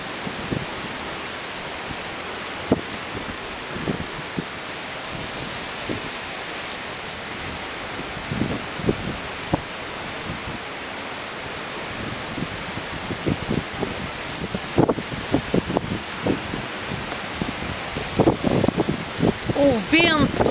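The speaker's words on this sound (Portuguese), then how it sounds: "o vento é forte de sul e a chuva também não se fica atrás." Steady hiss of heavy rain and strong southerly wind gusting at a casino doorway in Póvoa de Varzim, Portugal, with scattered drops and rustles; a voice speaks intermittently over it.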